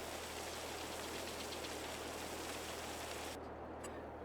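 A tractor engine idles in Farming Simulator 22 as a steady, faint low rumble with an even hiss on top, continuous throughout with no talk.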